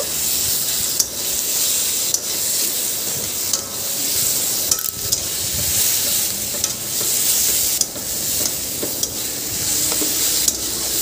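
Taro and chopped ginger sizzle loudly in a frying pan, with a steady hiss broken by regular stirring scrapes and clicks.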